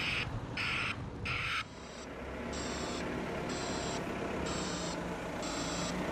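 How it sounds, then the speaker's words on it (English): A BBS Tech broadband reversing alarm pulses in a regular rhythm of hissing, noise-like bursts, a few quick ones then slower evenly spaced beeps, fairly close. "the BBS Tech back alarm makes a sound like this"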